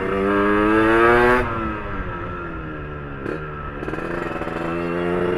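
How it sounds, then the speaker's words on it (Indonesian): A Yamaha RXZ two-stroke motorcycle with a racing underbelly exhaust revs hard up close, rising and dropping in sharp, raspy bursts with crackling on the overrun. "Asli enak sih teman-teman ini knalpotnya."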